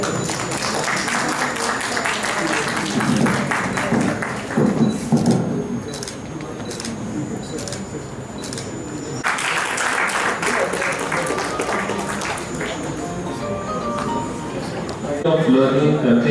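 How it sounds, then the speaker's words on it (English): Applause at the IMA Gorakhpur Jhingran Memorial Oration, a medical event: a long, steady wash of audience clapping in a large room, with a voice talking over it and a few sharp clatters along the way. "Please, a big round of applause for Dr. Judges, Dr. Krishnan"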